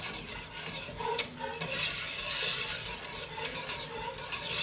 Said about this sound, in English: we're going to stir this until it comes up to a boil